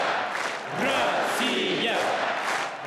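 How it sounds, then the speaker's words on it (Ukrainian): A large crowd at a party congress chants "Russia" in unison and applauds the premier, a loud, full roar of voices with rising and falling chant shapes over a dense wash of clapping. "Натовп зачаровано повторював слова прем'єра і аплодував"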